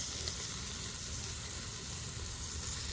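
Pork and chicken barbecue grilling over charcoal sizzles steadily, a close, even hiss with soft crackles that holds constant throughout.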